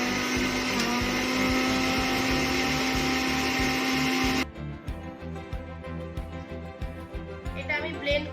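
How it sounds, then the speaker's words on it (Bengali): A blender in a mixing jar grinds plain sugar with a loud, harsh motor roar for about four seconds, then cuts off, leaving a softer rhythmic rattle and faint background sounds. "মিক্সিং জারেই আমি ব্যাপারটা ব্লেন্ড করব"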